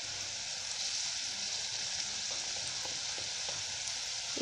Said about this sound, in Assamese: এতিয়া ৰৈ যোৱা তেলখিনিতে মই পিঁয়াজ দিবলৈ লৈছোঁ।